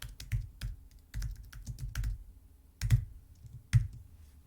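Code being typed into a Python file on a computer keyboard, a run of quick key clicks in short bursts with small pauses between, close and fairly quiet with no talking.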